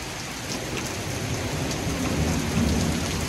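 Heavy rain pours down hard and fast in a tornado-producing thunderstorm, flooding the road, with steady dense drumming and low thunder rumbling throughout.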